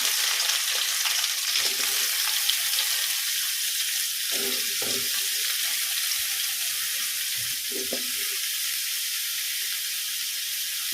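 Pieces of bitter gourd fry in hot oil, giving a continuous even hiss and crackle close by, with a few soft knocks from the pan now and then.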